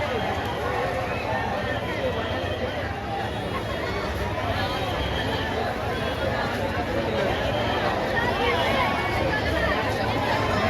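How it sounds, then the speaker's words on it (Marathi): A dense crowd at Lalbaug during the Ganpati festival fills the air with steady, close babble and shuffling, and several voices talk within the continuous hubbub. "गर्दी बघा गर्दी."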